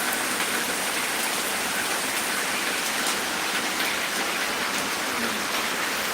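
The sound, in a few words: rain falling near river in village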